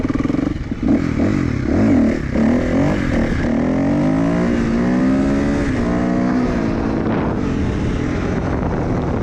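A motocross dirt bike engine revs loudly and close up, pitch sweeping up and down through repeated throttle bursts and gear changes during a wheelie run, with steady wind buffeting the microphone throughout.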